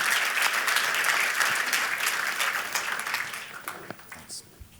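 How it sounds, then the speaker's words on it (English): Audience applause for a speaker at a conference plenary, a full room clapping densely and steadily before the sound thins out and tapers into scattered claps near the end. "Please, some applause for the Parliamentarian State Secretary of the Ministry for Development Cooperation."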